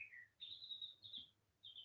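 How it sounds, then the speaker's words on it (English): A single bird chirps outdoors on a woodland path, giving several thin, high, whistled tweets in short bursts with brief pauses, faint and clear against a quiet background. "if you can hear the bird, it's beautiful out there."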